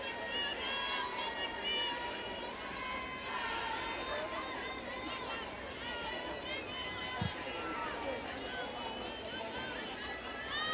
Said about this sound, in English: Jam-packed crowd that is still filing into Farrington Stadium